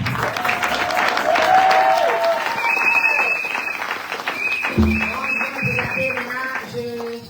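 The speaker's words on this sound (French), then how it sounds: "Au nom de Jésus-Christ, acclamez le Seigneur" A church congregation at a Sunday worship service claps steadily and loudly for several seconds, with crowd voices and faint tonal music mixed in.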